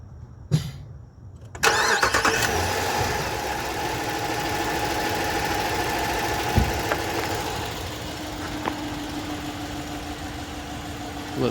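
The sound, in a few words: 2021 Jeep Grand Cherokee engine starting up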